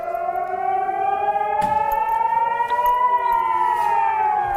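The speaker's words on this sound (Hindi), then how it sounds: "सायरन की आवाज लगातार लोगों को डराती हुई नजर आई" An air raid siren wails continuously in the distance over the Israeli town of Kiryat Shmona, its tone rising slowly, with a couple of faint knocks partway through.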